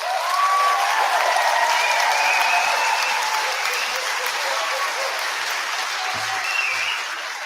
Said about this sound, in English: Can we please give your teachers a round of applause?